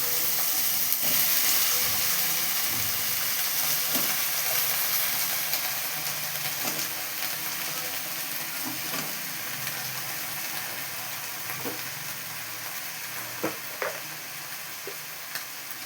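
Curry leaves, raw banana, brinjal and drumstick fry in a pan with a steady, loud sizzle and hiss. Occasional scraping stir strokes cut through it, and no one speaks.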